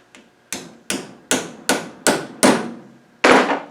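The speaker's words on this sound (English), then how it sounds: "We put a pipe fitting onto here, and then we get a hammer." A hammer drives a pipe fitting onto a squared-off tube end on a V8 Land Rover 110 project. About seven sharp metallic blows ring out in a steady rhythm, close and loud, with no talking.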